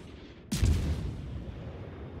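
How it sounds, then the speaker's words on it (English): A Z-46 destroyer fires its guns at a Bismarck in a naval game: a single sudden booming salvo, loud and close, with a long rumbling decay. "I set my focus on him and start firing my guns as soon as he is in range"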